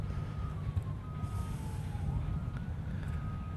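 Emergency vehicle sirens wailing from outside the airport at night, a faint distant rising and falling tone over a steady low rumble of airport background noise, with no talking.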